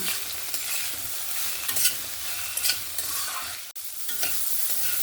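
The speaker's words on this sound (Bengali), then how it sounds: "ভালো করে এই মশলাটাকে একটু ভেজে নেব।" Whole spices with dried chillies frying in oil in a pan for a Punjabi-style fish curry, a steady, close hissing sizzle with stirring scrapes and no talking.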